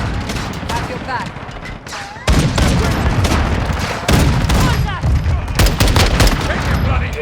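Gunfire in the video game Call of Duty Modern Warfare II on the Shipment map: relentless, loud bursts of automatic fire and explosions overlap continuously, with game voice callouts mixed in.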